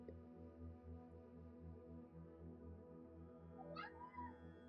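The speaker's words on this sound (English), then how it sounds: "My cat is yelling." A cat yells with a harmonic meowing cry that holds steady for several seconds and then rises into a brief sharp call near the end. It sounds close but quiet, with no talk over it.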